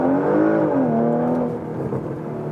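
A 2022 Porsche Macan GTS engine pulls hard under acceleration through corners, a close, strong rising whine that eases off and then settles into a steady drone.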